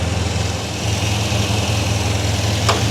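A 1974 MGB GT engine idles close up with a steady, loud low-pitched rumble and a slightly uneven pulsing beat, running on without pause.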